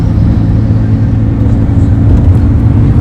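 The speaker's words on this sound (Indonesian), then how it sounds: "Kondisi jalan masih lalu-lalang." Steady road traffic rolling across the Ampera bridge in Palembang, a continuous low engine rumble and tyre hum from passing cars that stays loud and even throughout, with no speech.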